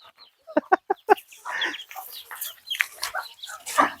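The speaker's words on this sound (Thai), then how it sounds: "ไก่ของคุณยายนี่" A chicken clucks nearby in a quick series of short, sharp calls, followed by softer scratchy clucks and rustling.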